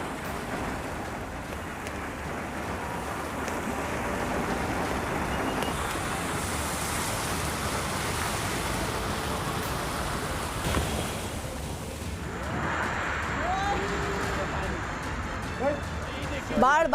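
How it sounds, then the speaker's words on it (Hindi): Heavy rain pours onto a flooded road in Mangaluru, Karnataka, a loud continuous wash of rushing water and hiss with vehicle splashes, and a voice speaks over it. "कर्नाटक के मंगलुरु में भारी बारिश हो रही है।"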